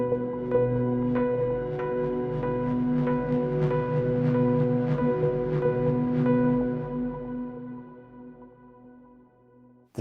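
A synthpop intro led by a bright, bell-like electric piano preset from Massive X, playing a melodic line of repeated chiming notes over sustained pads before fading out.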